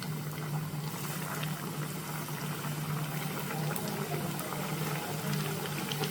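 Chicken kachori fry in oil heated over a medium flame, giving a dense continuous sizzle and bubbling hiss at moderate level with a faint low hum beneath, steady throughout with no voices.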